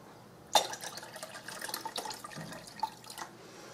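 Cold water runs from a kitchen tap into a cup while a lime cake is being made, a close splashing stream that starts abruptly and continues with small drips and gurgles.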